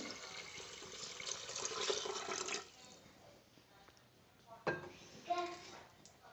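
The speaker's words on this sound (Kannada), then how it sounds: "ಇದಕ್ಕೆ ಎಷ್ಟು ಬೇಕೋ ಮಟ್ಟದಾಗ ನೀರು ಹಾಕ್ಕೋಬೇಕು" Water pours into a pot of tomato bath mixture in a home kitchen, a loud continuous gush for a few seconds, then quieter stirring and splashes with some speech in the background.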